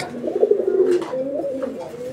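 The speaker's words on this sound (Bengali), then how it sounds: "সাদা লেস, সাদা আর কালারিং রাজগোল্লা কবুতর।" A Rajgolla pigeon, white-laced with coloured markings, gives soft, close rolling coos in a short run that lasts about two seconds.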